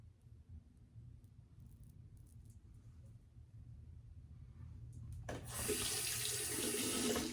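Water from a tap rinsing a razor: a low rumbling background at first, then the faucet opens near the end into a loud, steady close rush of running water.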